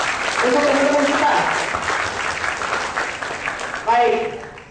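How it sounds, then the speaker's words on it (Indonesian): Audience applause after an art performance at IPB, a dense, continuous crowd clapping that swells and fades, with voices talking over it near the end. "Untuk itu tepuk tangan lagi untuk teman-teman kita."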